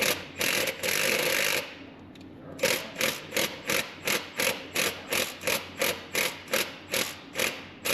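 A ratchet wrench runs a stud into a broken exhaust manifold on an 8320 engine. Fast, continuous clicking gives way to an even rhythm of sharp, close ratchet clicks, each about a third of a second apart.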